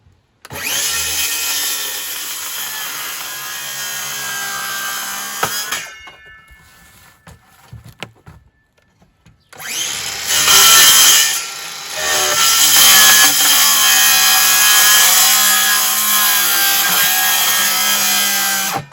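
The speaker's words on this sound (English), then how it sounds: "This is how I've been cutting the bottoms out." Power tool cutting the bottoms out of plastic paint buckets: a loud, close, continuous whine that stops for a few seconds, then starts again and runs to the end.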